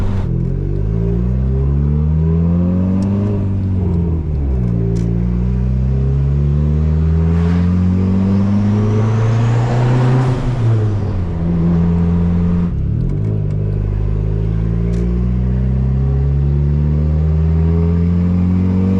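Turbocharged Honda Civic accelerating hard up an exit ramp, its engine note climbing steadily through several gear changes with brief dips at each shift, loud and close from inside the cabin with no talking.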